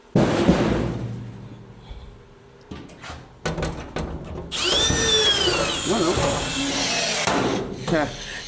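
A power drill whirs in loud bursts inside a workshop during sheet metal work, starting and stopping several times and then running longer with a rising pitch, among clanks and knocks, with people talking in between.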